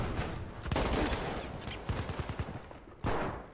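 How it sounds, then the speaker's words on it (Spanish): Rapid gunfire and explosions from the World War I shooter Battlefield 1 fill the scene with dense, loud bursts and sharp cracks, including a close burst near the end. "No era ni a mí el disparo."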